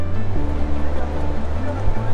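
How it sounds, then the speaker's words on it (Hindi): A mountain stream flows in a Himalayan valley on the route from Tawaghat toward Panchachuli, a loud, steady rushing roar of water close by that holds without pause. A low tonal hum runs underneath. "एक स्ट्रीम वो निकल रही है,"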